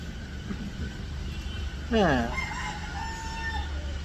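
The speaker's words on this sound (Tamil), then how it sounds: "கோழி கூவிட்டுக்குது?" A single rooster crows once, a clear drawn-out cock-a-doodle-doo standing out over a steady background hum.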